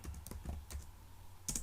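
Quiet typing on a computer keyboard, a handful of soft separate key clicks in an irregular rhythm over about two seconds, with no talk.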